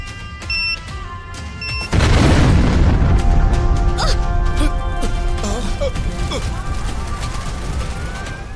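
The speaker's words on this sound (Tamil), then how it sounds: "ஒரு நிமிஷத்துல வெடிச்சிரும்" A sudden loud blast of a car exploding erupts after a few seconds of quiet, followed by a long rumbling roar with crackling debris and faint voices in the background, in a Tamil TV drama scene.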